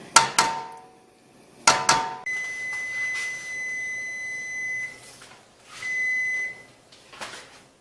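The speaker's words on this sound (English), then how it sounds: "our timer is up" Kitchen timer beeping on the stove during a marmalade simmer, a few clusters of sharp electronic beeps with sustained high tones between, near and clear amid quiet room sound.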